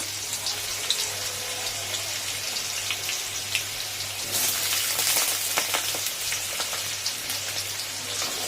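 Potato pieces fry in oil with a pumpkin in a home kitchen, a soft continuous sizzle and crackle of close, fine pops that swells briefly midway.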